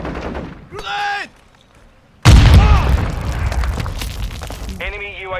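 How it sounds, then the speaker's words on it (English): A grenade blows up in Modern Warfare 2 multiplayer: after a brief shouted voice and a quiet gap, a sudden loud boom erupts and rumbles into debris noise, with game voices following. "Grenade!"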